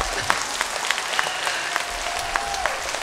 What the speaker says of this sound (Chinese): 这掌声还不够热烈